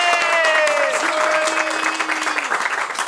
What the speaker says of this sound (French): j'aimerais qu'on applaudisse très fort pour ces personnes